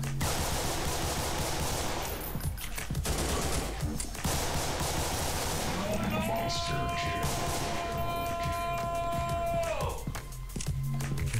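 Rapid bursts of pistol gunfire from a video game, loud and dense, with crashing impacts and a brief electronic tone partway through.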